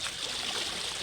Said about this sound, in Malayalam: ഒഴുക്കുണ്ട്, വെള്ളത്തിന് നല്ല ഒഴുക്കുണ്ട് കേട്ടോ.